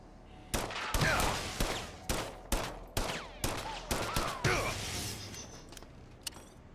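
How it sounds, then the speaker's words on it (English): A turret firing in the System Shock remake: about a dozen loud, sharp shots at an even, quick rhythm, each with a short ringing tail, fading to quiet at the end. "Ah, turret."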